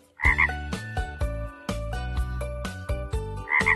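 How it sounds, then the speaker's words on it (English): Loud, deep frog croaks repeat in quick succession, each a resonant throaty burst, close by with a few brief gaps between calls. "frog!"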